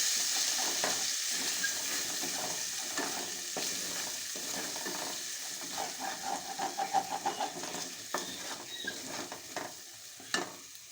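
Cumin, chili powder, turmeric and salt frying together in a pan over low gas, a steady soft sizzle with scattered stirring scrapes and crackles, close and alone with no talk.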